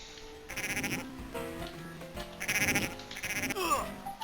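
Sheep bleat repeatedly in the Cool Herders Game Boy Advance game, loud wavering cries in several bursts with game sounds between them.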